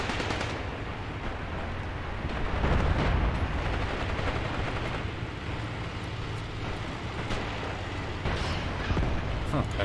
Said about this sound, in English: Suddenly these half-tracks with the machine guns are dangerous.